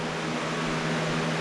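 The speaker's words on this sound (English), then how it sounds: "we have the fan running" An electric fan runs indoors on a hot, humid morning, giving off a steady, even hum with a faint low tone throughout, unchanging and alone.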